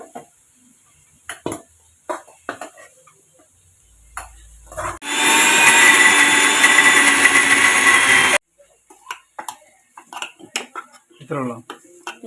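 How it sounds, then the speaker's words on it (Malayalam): A mixer grinder roars steadily for a few seconds grinding spice paste for onion curry, bracketed by clinks and knocks of kitchen utensils before and after. "നമുക്ക് ഇപ്പൊ ഇനി അരപ്പ് അരച്ചെടുക്കാം"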